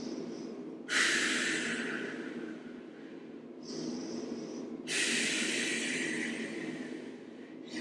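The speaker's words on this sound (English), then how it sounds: "Take 2 big breaths here." Two deep breaths taken during an ab workout cool-down, each a loud, airy inhale-exhale rush close to the mic, the second starting about four seconds after the first, with no talk over them.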